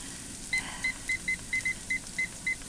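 A kitchen timer beeps in a home kitchen, a steady series of about ten short, sharp electronic beeps in a regular rhythm, moderately loud over a quiet room hum.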